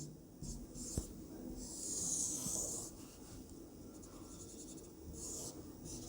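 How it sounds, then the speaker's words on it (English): A pen scratches and squeaks across a surface in short strokes while a diagram is drawn by hand, quiet and close with no talking. "so let's draw the diagram again"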